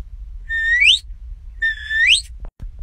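A Logan sheepdog whistle sounds the away command: two identical clear, loud rising whistle blasts about a second apart, each sliding upward, followed by a couple of soft knocks.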